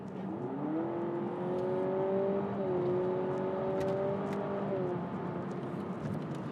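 Synthetic engine note piped into the cabin of a 2023 Honda Civic e:HEV hybrid, a smooth tonal whir rising in pitch, stepping as if shifting gear, then settling and fading over steady road noise.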